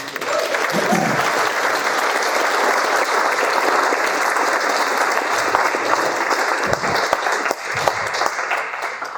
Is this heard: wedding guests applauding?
yes